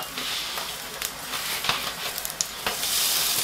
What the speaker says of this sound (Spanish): vamos a echar los dientes de ajo